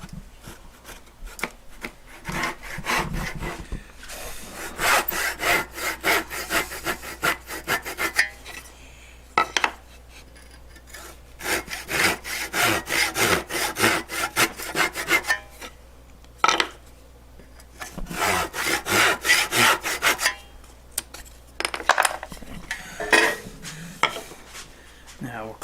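Hand saw cutting wood freehand for a half lap miter joint, a rhythmic rasping of back-and-forth strokes in bursts with short pauses between them, close and moderately loud.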